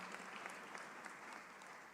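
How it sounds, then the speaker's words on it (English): An audience at a political rally applauds in a steady, dense wash of clapping, faint and distant, lasting the whole moment without voices. "Big round of applause for Callie."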